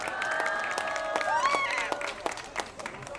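Applause from a rally crowd in Busan greets a speaker, a few scattered claps standing out as the sound tapers, with a voice and crowd chatter mixed in.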